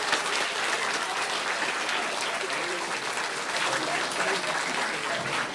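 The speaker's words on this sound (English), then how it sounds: "One final round of applause" A class of children claps in a round of applause, a dense steady patter of many small hands held evenly for several seconds, close and fairly loud.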